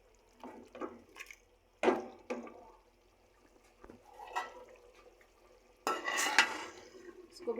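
A spoon stirring washed peas into cooking keema in a pot, with intermittent scraping and wet clattering knocks against the pot. The sounds are close and moderately loud and end in a longer, busier stretch of mixing.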